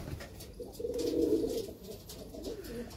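A single pigeon from a pigeon-flying loft coos close by in one soft, low, rolling phrase that swells mid-clip and then tapers, with quiet background noise and no talking.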